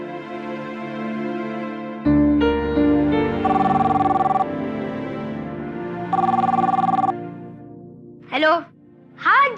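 A phone rings in repeated electronic tones over background music, followed by a couple of short vocal sounds near the end.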